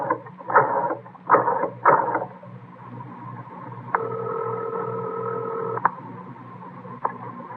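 A telephone is dialed in a 1952 Dragnet old-time radio drama: three short bursts of dialing, then a steady droning tone broken by sharp clicks, close up and with no talking over it.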